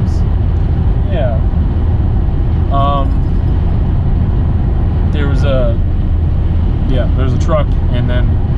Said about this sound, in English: There was a truck, and then an intersection,